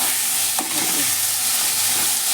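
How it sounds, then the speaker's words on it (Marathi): Tomatoes stirred into hot oil with garlic in a pan for masala pav, giving a loud, steady sizzle with a brief scraping stir near the start, close and continuous, with no voices. "त्याच्यानंतर टमाटा टाकायचे. टमाटा चांगली हलवून घ्यायचे."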